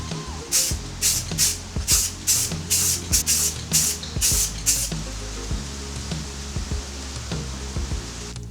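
Primer sprays onto a Nissan 240SX car body in about ten short, hissing bursts at an even rhythm, close and fairly loud, over a steady low background hum; a quieter stretch of hum follows the bursts.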